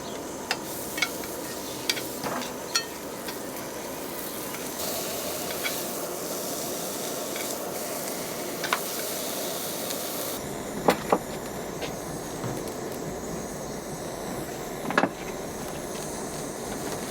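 Venison sears in a pan with a little oil and butter, giving a continuous close hiss and sizzle with occasional light clicks of utensils; the sizzle drops noticeably in brightness partway through.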